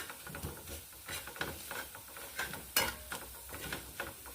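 Chilies fry softly in a pan while being stirred for a Bengali curry of puti fish and crushed fig, giving faint, close sizzling with irregular scraping strokes and no talk.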